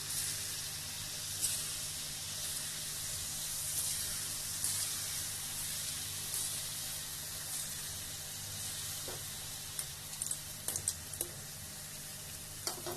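Rice flour dough pieces frying in hot oil until brown, giving a steady, continuous sizzle and crackle close by, with a few sharper pops and stirring clinks near the end.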